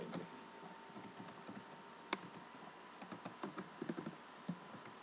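Keys clatter on a computer keyboard as Java code is typed, a quiet, irregular run of close taps with occasional firmer strikes, no voice.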